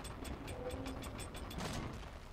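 In the game Uncharted 3, a heavy door mechanism opens with a rapid run of ratcheting clicks and grinding gears over a low rumble, steady and close.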